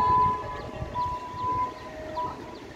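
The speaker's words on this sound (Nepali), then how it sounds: "बल्ल दमकल आयो" A fire engine siren sounds while arriving at a fire in Kathmandu, a thin wailing tone rising and falling at a distance under a low rumble of street noise and wind.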